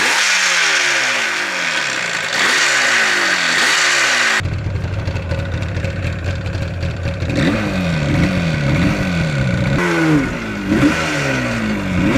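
A 1977 Yamaha RD400 two-stroke motorcycle, Kenny Roberts replica, warms up on a hot day with repeated sharp throttle blips rising and falling over a buzzing idle, loud and close, with no one speaking.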